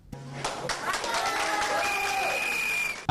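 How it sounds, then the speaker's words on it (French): Audience applause at a French-language political talk programme, a short burst of mixed clapping and crowd noise with voices over it, ending in a sharp knock. "Applaudissez la partie là aussi"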